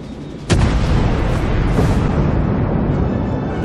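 Main guns of the light cruiser Cleveland fire in World of Warships, giving one sharp, loud boom followed by a long rumbling, roaring tail of battle noise.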